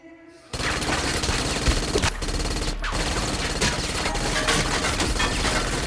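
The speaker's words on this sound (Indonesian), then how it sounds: "Tiba-tiba mereka diberondong peluru oleh Venus." Sustained automatic gunfire from an action film bursts in after a brief quiet opening, a dense, loud, continuous rattle of rapid shots that runs to the end.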